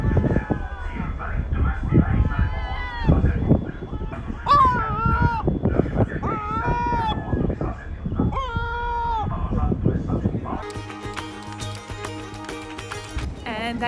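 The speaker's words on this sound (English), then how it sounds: "I got to share this ride with lovely company of seagulls." Seagulls cry repeatedly on a ferry crossing from Tallinn to Helsinki, close and loud over a rumbling engine and wind, with a sharp metallic clatter near the end.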